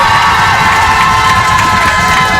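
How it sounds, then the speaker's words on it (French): Studio audience at a French radio show cheers loudly for guest Lady Gaga, a dense, sustained roar of many voices with high-pitched shouts, close and continuous throughout. "Faites du bruit pour Lady Gaga qui est notre invitée."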